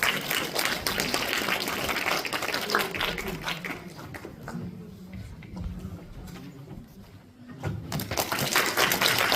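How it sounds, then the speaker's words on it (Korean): An audience claps for a student presenter at a university academic festival, a loud, busy clapping that dips in the middle before swelling again, with a voice briefly audible underneath. "박수 부탁드립니다."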